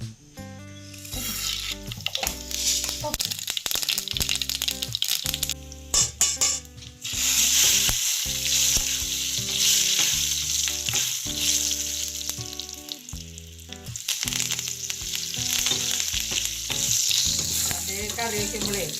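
Mustard seeds and dried chillies crackle and splutter in a hot frying pan (kadai) as they are stirred, a loud, steady sizzle that runs throughout with scraping stirs and pan clatter, no talking.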